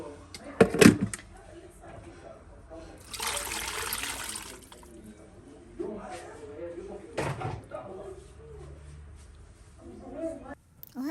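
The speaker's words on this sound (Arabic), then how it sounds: "حسيت بدها كمان ماء، بحط هاي الماء." Water splashes into a cooking pot for Syrian bulgur-stuffed mahshi, a steady one-second pour after a couple of sharp kitchen knocks, with soft kitchen clatter and faint voices around it.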